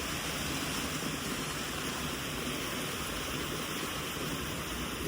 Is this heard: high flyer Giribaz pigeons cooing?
no